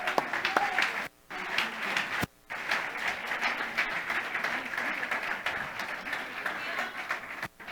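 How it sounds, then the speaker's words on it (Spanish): Congregation applause at a Spanish-language church sermon, a steady dense wash of clapping with two brief drop-outs, loud and sustained throughout. "Dale un aplauso al Señor este día."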